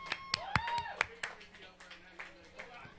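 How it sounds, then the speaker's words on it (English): A small group of people clapping in a green room backstage, with scattered claps in an irregular rhythm, close and fairly loud, while voices talk and call out over them. "They're really clapping back here in the green room."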